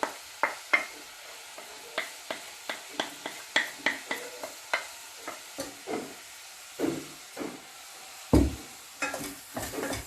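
Mashed vegetables and minced meat stirred in a cooking pot for a baby's meal, with repeated short scraping, squelching strokes in an uneven rhythm, close and moderately loud, no talking.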